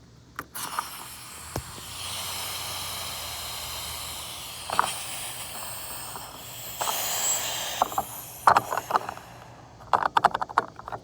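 Pressure venting from the gas tank of a 1995 Toyota Camry, a steady hiss lasting several seconds, then scattered clicks and knocks as it tapers off.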